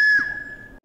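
A traditional folk toy whistle gives a single short, bright, steady tone lasting under a second, loud and close, then stops abruptly.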